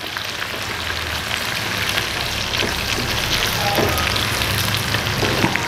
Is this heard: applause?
no